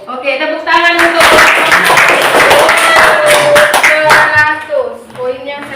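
A classroom group claps hands loudly and enthusiastically for several seconds, the dense applause mixed with cheering voices, starting after a brief spoken cue and tapering off at the end.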